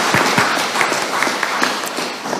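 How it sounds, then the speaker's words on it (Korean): Church congregation clapping at an Easter Vigil gathering, a dense, loud wash of many hands with some distinct individual claps standing out in an irregular rhythm. "박수 한번 부탁드립니다."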